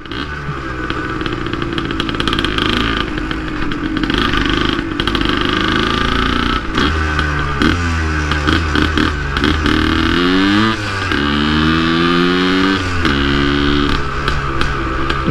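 A loud Yamaha DT 180 two-stroke motorcycle engine runs close by in city traffic, revving repeatedly with rising and falling pitch, its buzzy two-stroke rattle continuous throughout.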